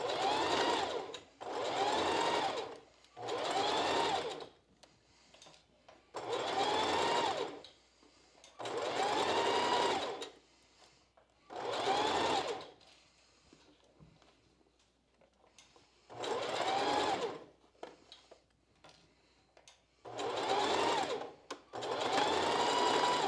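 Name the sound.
sewing machine sewing seam a quarter inch from cup edge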